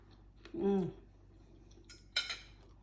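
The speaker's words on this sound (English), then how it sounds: "let's get a bite with some beans and some sour cream and onion" Cutlery clinks against a plate while a bite of cheesy jalapeño cornbread waffle with beans and sour cream and onion is taken, with a brief sharp scrape near the end and a short voiced sound earlier, close and quiet.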